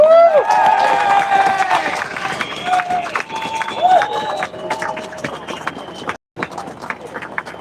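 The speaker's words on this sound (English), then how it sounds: "another round of applause for Tom Bradshaw from the NFU." A crowd at an outdoor farmers' protest against inheritance tax claps and cheers, sharp clapping mixed with shouts and raised voices, loud and close, with people talking through it.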